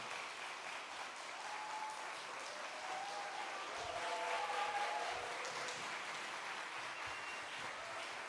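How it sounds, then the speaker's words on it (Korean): A church congregation claps steadily for several seconds, a dense wash of applause heard from a moderate distance with faint murmuring underneath. "따뜻한 박수, 격려 감사합니다"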